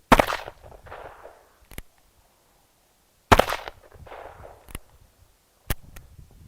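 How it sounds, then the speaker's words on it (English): 4-inch barrel Ruger New Vaquero .357 revolver fired outdoors at small pieces of wood, three sharp loud shots spaced a few seconds apart, each with a short echo, close and without talk. "I'm shooting at little pieces of wood."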